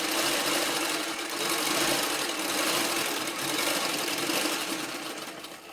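A sewing machine runs steadily at close range, double-stitching saree fabric with a fast, even mechanical whirr that swells and eases slightly before slowing near the end, with no voices.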